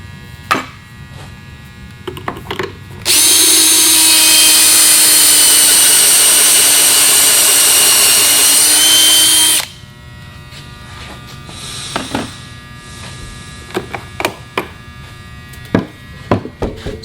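A drill bores pocket holes through a Kreg pocket-hole jig in one loud, continuous high whine lasting about six seconds, preceded and followed by quiet clicks, taps and handling of the jig.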